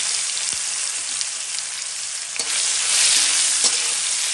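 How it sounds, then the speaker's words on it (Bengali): Whole cumin, bay leaves and chopped ginger sizzle in hot oil for a vegetarian aloo dum, a loud, steady frying hiss broken by a few soft stirring clicks. "গরম হয়ে গেছে এখন আমি এখানে দিয়ে দিচ্ছি অল্প গোটা জিরা দুই তিনটা তেজপাতা দিয়ে দিলাম একটু আদা কুচি দিয়ে দিলাম"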